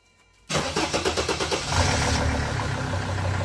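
A Mercedes engine is cranked after fuel system bleeding: the starter churns in about nine rapid pulses, then the engine catches and settles into a steady, loud idle close by.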